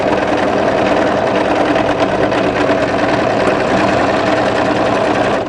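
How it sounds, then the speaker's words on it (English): An overlocker serger runs steadily, stitching the seam of a draped midi-length dress, with a loud, continuous fast whir throughout and no voices. "We want to overlock to that second notch"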